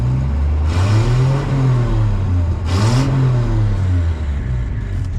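A 1960 Plymouth car engine revs up and down twice, rising and falling in pitch, loud and close with a steady idle between the revs.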